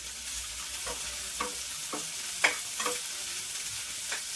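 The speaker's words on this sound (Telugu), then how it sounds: "ఇది బాగా వేయించేసుకోవాలి" Ingredients for lemon chutney fry in a pan under a soft, constant sizzle, broken by a handful of light spatula taps and scrapes at an irregular rhythm, moderately quiet and close, with no one talking.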